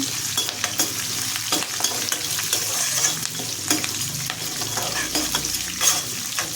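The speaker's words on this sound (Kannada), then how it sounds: "ಈಗ ಸ್ವಲ್ಪ ಹುಣಸೆಹಣ್ಣನ್ನು ಸೇರಿಸಿ ಇದನ್ನು ಸಹ ಫ್ರೈ ಮಾಡ್ಕೋಬೇಕಾಗುತ್ತೆ" Curry leaves and tamarind frying in hot oil for a beetroot chutney tempering, a steady close sizzle with stirring scrapes in a pan, no voices.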